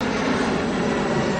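A small plane's engine droning steadily and loudly, a continuous broadband roar with no talk.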